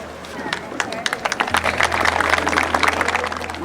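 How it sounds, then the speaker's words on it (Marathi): Women's Day event audience clapping: a few scattered claps build after a second into loud, sustained applause from a crowd, with a low steady hum underneath and voices in the room. "जोरात भरपूर आवाज आला पाहिजे टाळ्यांचा."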